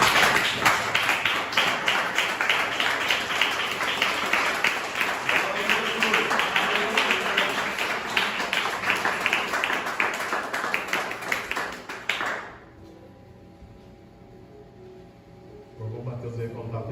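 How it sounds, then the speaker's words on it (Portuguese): A church congregation claps together in praise of the name of Jesus, a dense rhythmic wash of hands that carries on steadily for about twelve seconds, then stops abruptly, leaving quiet room tone. "e aplaudir o nome do Senhor Jesus"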